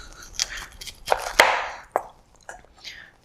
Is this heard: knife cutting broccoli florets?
yes